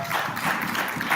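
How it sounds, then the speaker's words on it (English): An audience applauds together at a national adolescent health forum, a dense, steady wash of many hands clapping at once. "let's clap for ourselves"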